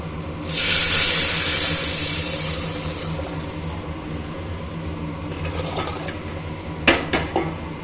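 Rasam poured into a pan of hot oil tempered with cumin and garlic erupts in a loud hissing sizzle that swells and slowly fades, followed by a few clinks of a utensil against the pan.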